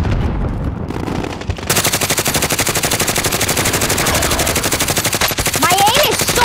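Rapid automatic gunfire from the video game Call of Duty Warzone roars without a break, loud and close, with a brief lull early on. A voice can be heard faintly beneath the shooting.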